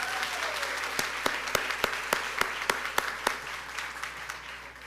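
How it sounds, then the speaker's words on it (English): A round of applause at a college reunion convocation honoring an alumni class, dense crowd clapping filling the room at an even level with a handful of distinct louder claps close by, tapering slightly toward the end. "Round of applause, please."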